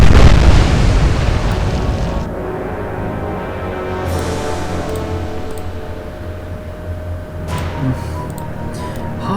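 Booming battleship gunfire and shell explosions from the naval warfare game Atlantic Fleet, Royal Navy against Kriegsmarine, a dense rumbling salvo that rolls on with a second burst near the end.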